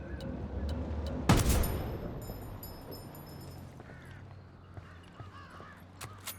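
A single loud, close gunshot in Ghost Recon Wildlands, followed by a ringing tail and quieter scattered shots and game noises in the background.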